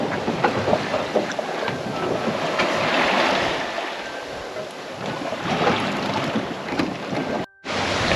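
A sailboat drifts under gennaker in very light wind on a passage toward New Zealand's South Island, with a continuous wash of water and wind noise on the microphone, steady and fairly loud with a short dropout near the end.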